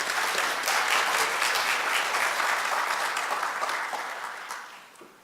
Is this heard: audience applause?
yes